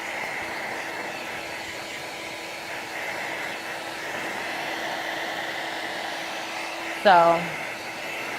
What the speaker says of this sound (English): And the blow dryer takes a while.